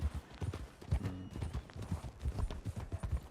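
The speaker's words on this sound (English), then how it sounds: "There's a lot of horses at medical." Horses' hooves clip-clop in Red Dead Redemption 2, a busy run of irregular hoofbeats from several horses at once, with a brief neigh partway through.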